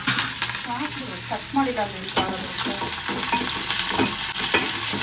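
Onion, green chili and curry leaves sizzle steadily in hot oil in a pan, with a continuous crackling hiss and occasional scraping stirs, close and fairly loud, no talking.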